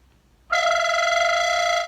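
Recorder played with a guttural throat flutter, one sustained rattling, wavering tone starting after a short silence and holding for over a second, loud and close, with no voices.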